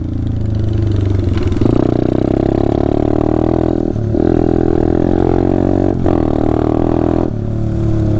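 A Taotao DB17 125 mini bike, a Syx Moto and a Coleman CC100X golf cart riding together, with loud continuous small-engine drone and revving that dips briefly a few times as throttle changes.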